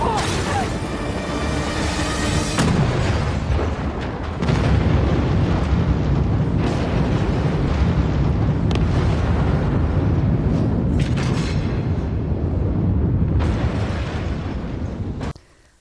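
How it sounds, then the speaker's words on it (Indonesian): Helicopters collide and explode in the Korean action film Carter, a long roaring blast with crashing debris and rumbling fire that fills the whole stretch loudly before cutting off abruptly. "tiba-tiba helikopter itu pun saling bertabrakan dan menimbulkan sebuah ledakan"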